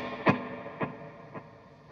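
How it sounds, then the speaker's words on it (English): An electric guitar plays a few arpeggiated notes low on the neck through a compressor, clean boost, quarter-note delay and spring reverb, three plucks fading in level as the echoes repeat. "It's this arpeggiated guitar part kind of down on the neck."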